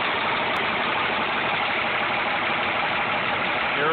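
A Caterpillar 3116 diesel engine mounted in a truck frame idles with a steady, even rumble that holds at constant loudness throughout.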